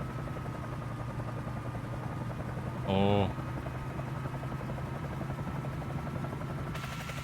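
Bell 47J Ranger helicopter in Microsoft Flight Simulator, a steady low rotor drone and engine hum throughout, with someone briefly speaking and a short tone sounding midway.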